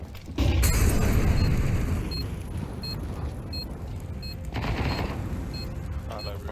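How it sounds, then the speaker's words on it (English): A flashbang grenade goes off in a video game with a sudden loud blast, followed by a sustained roaring wash of noise and faint repeating electronic beeps. "Flashbang."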